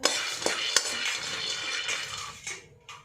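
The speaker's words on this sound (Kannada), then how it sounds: "ಬೀಜನ ಹಾಕಿ ಚೆನ್ನಾಗಿ ಹುರ್ಕೋಬೇಕು." Peanuts roast in a metal pan and are stirred, with close, irregular clattering and scraping of the nuts against the pan, loudest at first and fading toward the end.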